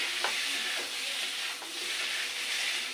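Vegetables being sautéed with spices in a pan give a continuous soft frying hiss with occasional light stirring scrapes, close and fairly quiet.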